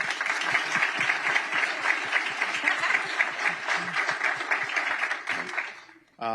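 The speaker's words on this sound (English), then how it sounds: "let's give them a round of applause." Steady, fairly loud applause from an audience at a business launch event, clapping rolling on evenly for several seconds, then dropping off abruptly with a brief voice at the very end.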